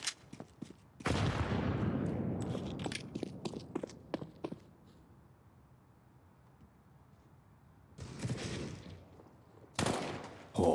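Counter-Strike gunfire on the Overpass map in a professional CS:GO match comes in bursts of sharp shots and rattling sprays, with quieter gaps and footsteps between them.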